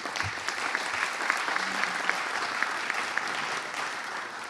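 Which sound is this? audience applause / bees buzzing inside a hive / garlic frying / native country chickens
audience applause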